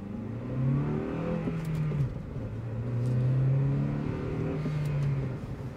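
A car with a manual gearbox pulls away from a stop, its engine rising in pitch through a gear, dropping briefly at a shift, then climbing again. The engine drone is steady and moderately close, with no talking.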